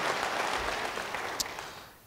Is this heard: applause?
yes